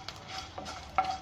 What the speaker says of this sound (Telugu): కలర్ వచ్చిన వరకు ఫ్రై చేసుకుందాము